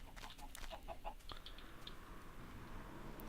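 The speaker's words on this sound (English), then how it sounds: "There's still lots of chickens around." Chickens in Minecraft, soft clucking blips scattered through the first half over a quiet game ambience.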